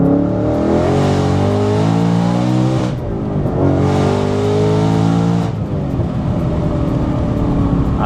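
Manual Ford Mustang Dark Horse built to nearly 1000 horsepower with a Whipple supercharger accelerating hard, engine pitch climbing through two rising pulls with a gear change between, then settling into a lower roar.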